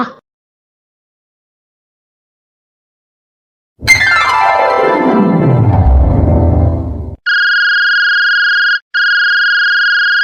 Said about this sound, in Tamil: யார் ஃபோன் பண்ணிட்டே இருக்கா?